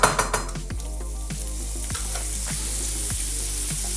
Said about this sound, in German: Zuerst Zwiebeln in Butter anbraten